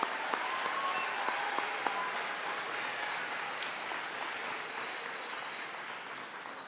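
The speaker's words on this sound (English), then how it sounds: "So give those individuals a round of applause." A school awards-day audience applauds, a steady wash of many hands clapping that holds evenly throughout and eases slightly toward the end, heard at a moderate distance.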